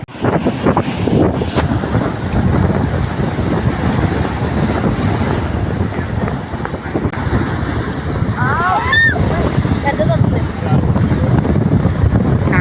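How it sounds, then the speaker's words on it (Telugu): Big ocean waves surge and crash at Uppada beach near Kakinada, a loud, continuous roar of surf mixed with heavy wind buffeting close to the microphone. "అలలు అయితే చాలా పెద్ద వచ్చేసి పైకి వచ్చేస్తున్నాయండి"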